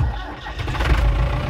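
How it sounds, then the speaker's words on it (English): A Ford 6610 tractor's engine is started with the key: a short cranking churn that catches and settles into a low rumbling run, close and fairly loud. "We turn a key."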